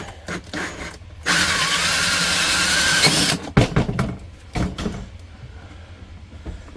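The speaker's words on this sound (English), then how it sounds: "Drill through." A power drill with a hole saw whines loudly and steadily for about two seconds, close by, cutting through plastic, then stops, followed by a few clunks and handling noises.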